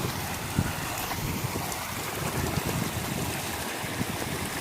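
A small waterfall on a river gives a continuous, dense rushing wash of water, steady and fairly close with faint wind buffeting the microphone, no voices.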